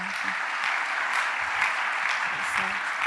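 Church congregation applauding, a dense, steady wash of many hands clapping together for a few seconds, with a faint voice underneath.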